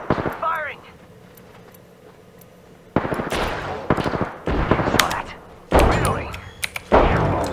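In Apex Legends, loud gunfire comes in bursts: sharp rapid volleys and single heavy shots after a quiet stretch, near and punchy, with a voice speaking briefly at the start.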